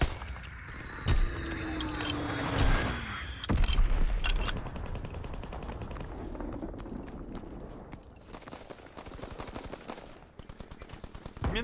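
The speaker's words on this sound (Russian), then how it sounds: "Минометы дали залп." A mortar volley in Call of Duty: WWII booms out amid a steady barrage of rapid machine-gun fire and scattered gunshots, with sharp loud bursts early on and dense crackling fire continuing throughout.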